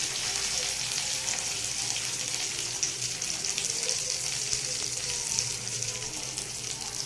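Soaked whole spices fry in a pan for pulao, producing a steady, fairly close hiss and sizzle that runs unbroken throughout with no talk.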